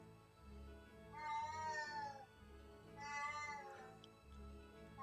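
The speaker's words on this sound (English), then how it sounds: "My cat says hello." A house cat gives two drawn-out, tonal meows about two seconds apart, close but quiet, over a low background hum.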